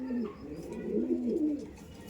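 Kolkata Chatial pigeons coo nearby in soft, low, throaty rolling calls, one phrase after another against quiet background.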